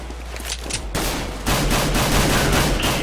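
Rapid gunfire from a CZ pistol in a competitive shooter video game, a dense burst of loud repeated shots that grows heavier after the first second and continues steadily to the end.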